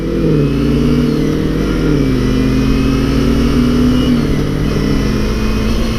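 A loud carbureted Kawasaki Ninja 250 motorcycle engine drones continuously up close, its pitch rising and sliding as it revs and shifts.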